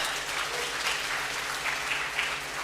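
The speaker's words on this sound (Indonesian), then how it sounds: "Tepuk tangan untuk semuanya." Sustained applause from an audience at an academic panel discussion, steady and fairly even throughout, with no voices standing out.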